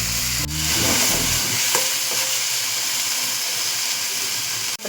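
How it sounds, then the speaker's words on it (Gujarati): Coriander chutney sizzles in a hot pan while a spoon stirs it, making a steady loud frying hiss with brief scraping at the start and a clink near the end. "હવે એને હલાવીશું। આવી રીતે 5 મિનિટ તેને હલાવીશું અને તેને થવા દઈશું।"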